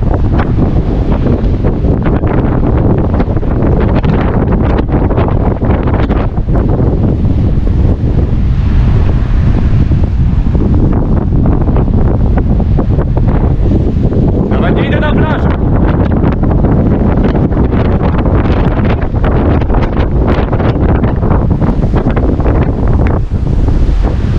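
Strong seaside wind in Darłówko buffets the microphone with steady roaring gusts for the whole stretch, with the wash of surf blended into the loud, unbroken rush.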